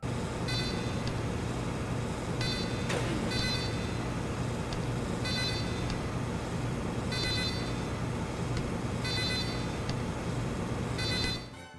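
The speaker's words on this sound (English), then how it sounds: "the sentry gun's beeps actually represent its current level" A Team Fortress 2 sentry gun gives off repeated short electronic beeps at roughly regular intervals over a steady mechanical hum, fairly close and moderately loud, with no talking.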